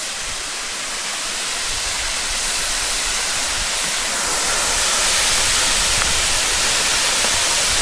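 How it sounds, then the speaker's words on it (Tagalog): Kawasan Falls waterfall in Balilihan, Bohol, Philippines, a loud, steady roar of falling water filling the scene with no pauses. "And behold! Kawasan Falls."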